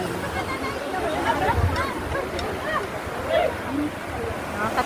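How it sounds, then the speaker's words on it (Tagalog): Surf rolling onto a beach in Alicia, Bohol, a steady wash of waves under a busy crowd of voices and family chatter nearby, with no single break standing out. "Nakakatakot yung alon."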